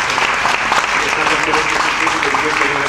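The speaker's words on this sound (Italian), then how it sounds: "un applauso ci può stare" Audience applause at an economics debate in Italy, dense clapping from a hall crowd filling the whole moment, loud and even with some voices mixed in.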